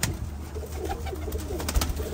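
Pigeons coo softly in a loft among a group of birds, a low murmuring coo over steady background hiss and rustle, fairly close and continuous with no talk.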